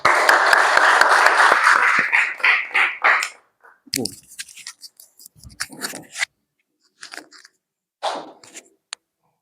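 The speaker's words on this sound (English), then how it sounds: "Big round of applause for Mr. Ravinder Singh, everyone" Applause at an open mic event for a speaker: a few seconds of crowd clapping that fades quickly, leaving scattered quiet shuffles, taps and brief murmurs.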